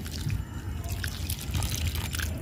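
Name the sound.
water poured onto potting soil of mint cutting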